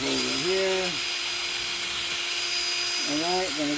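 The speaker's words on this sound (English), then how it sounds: "drill a hole right here" Electric drill boring into wood while building a wooden lamp, whining in two short bursts with its pitch rising and falling, separated by a quieter stretch of steady hum, close by.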